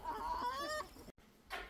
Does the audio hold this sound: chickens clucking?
yes